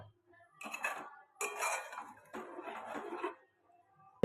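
A metal lid set onto a pot of potato curry, a few clattering scrapes and clinks in three short bursts, close and clear against near silence.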